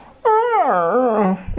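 A mimicry artist voices a dog's whimper: one drawn-out, wavering whine with a falling then rising pitch lasting over a second, close and clear, ending in a short breathy catch.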